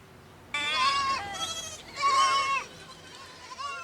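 Goats bleat among village livestock in the Himalayan Dolpo region, several wavering cries in quick succession, fairly close and clear over a quiet background, with one louder call midway and a shorter bleat at the end.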